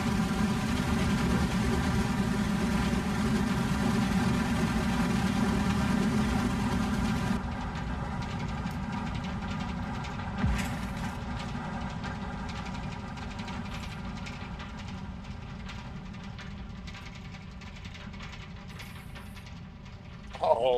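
An aircraft engine idles in a flight simulator game as a steady droning hum with layered tones, then drops and thins partway through and carries on more quietly to the end.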